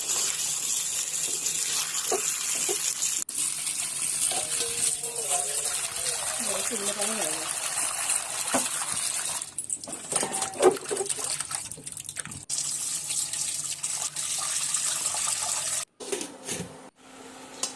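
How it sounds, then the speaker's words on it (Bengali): Cut fish, one carrying roe, is rinsed under a running kitchen tap: a steady splash and trickle of water, with brief knocks and handling noises and a voice talking over part of it. "মাছগুলো এখন আমি কেটে ধুয়ে নিচ্ছি।"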